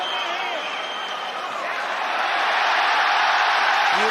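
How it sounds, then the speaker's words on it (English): A UFC arena crowd roars during a fight between Volkanovski and Makhachev, a broad, continuous swell of cheering that grows louder toward the end, with a commentator's voice briefly over it. "Listen to this crowd."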